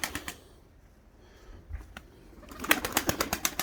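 Pigeons in a coop coo and shuffle quietly at first, then a burst of rapid flapping or scuffling builds near the end, close and fairly soft.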